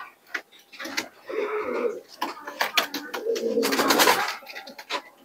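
Cooing from an active pigeon in a home loft of teddy pigeons comes in two soft, throaty bouts, with faint ticking and clicking noises around them and no voices.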